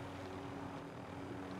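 A helicopter flying in the Warzone video game, its steady rotor and engine drone holding at an even level throughout, with no voices.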